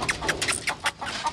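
Chickens clucking while they peck at mixed feed: a short series of close, nasal clucks and bocks in a loose, uneven rhythm over a soft background hiss, with no voices.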